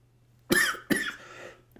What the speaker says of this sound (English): Excuse me. COVID cough.